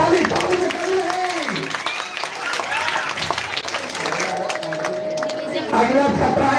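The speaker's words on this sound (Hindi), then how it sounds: "ताली ताली ताली" Audience applause at a Vikas Coaching Centre prize ceremony in 2025, a steady wash of clapping from a crowd that continues throughout, with voices and background chatter mixed in.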